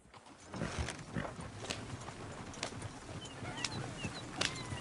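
Horses in a video game, hooves clip-clopping at a moderate distance over a busy outdoor ambience, with scattered louder thuds and faint voices mixed in.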